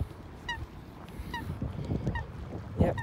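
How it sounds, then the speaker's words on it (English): Swans out on the water honk in short repeated calls, three or four in steady succession. Behind them is a murmuring outdoor background of water and movement. "The swans are out as well."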